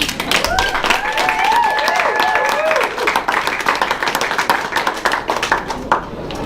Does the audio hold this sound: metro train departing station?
no